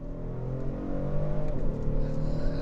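A 2019 Genesis G70 3.3T Sport with a twin-turbo V6 accelerating, heard from inside as a steady, rising engine drone with a deep low hum, moderately loud and unbroken, with no talking.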